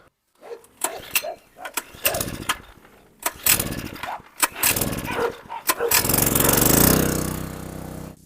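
Two large cane corso dogs scuffling and fighting, with irregular sharp bursts of growls, snarls and thuds building into a louder, continuous rough commotion near the end, close by.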